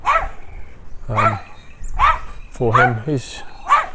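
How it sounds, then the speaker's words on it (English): A dog barks sharply several times at close range during a dog training walk, with short gaps between barks and a person speaking briefly in between. "I'm getting barked at, so it's a little bit intense"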